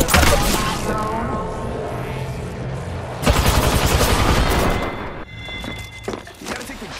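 Video game gunfire, with rapid automatic bursts loud and close through most of the stretch, then thinning out into scattered shots and game sounds, with a voice faintly underneath.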